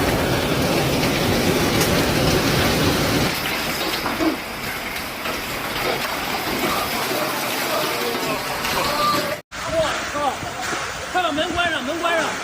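Heavy rain and hail lash Beijing during a severe thunderstorm with strong winds, a dense loud roar of pelting impacts that continues throughout, briefly cut by a sharp dropout near the end.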